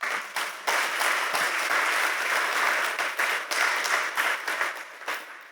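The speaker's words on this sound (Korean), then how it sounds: "자, 다시 한번 우리 찬양팀 뜨거운 박수 부탁드립니다." A church congregation gives the worship team a sustained round of applause during a Sunday service, dense clapping filling the room steadily for several seconds before thinning slightly at the end.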